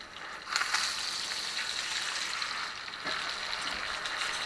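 Ribeye steak frying in butter in a cast iron pan, a steady close sizzle that swells slightly now and then, continuous with no talk.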